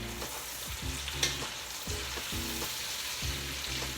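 Steady sizzling of mushrooms steaming in a pan with repeated scraping and stirring strokes, moderately loud and close, no voices.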